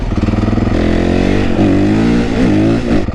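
A supermoto motorcycle revs hard for a wheelie, its loud close engine note climbing in pitch through several rising pulls with no talking.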